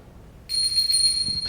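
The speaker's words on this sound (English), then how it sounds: "This is the highest bell." The highest handbell of a church handbell set, played at a home concert, gives a sudden, piercing, high-pitched ring that holds steadily and clearly against a quiet background.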